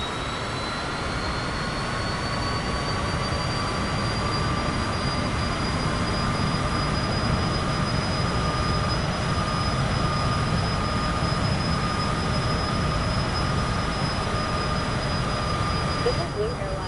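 A steady, loud jet engine drone from a large airliner in Microsoft Flight Simulator 2024, a continuous broadband roar with a thin high whine held throughout and no break.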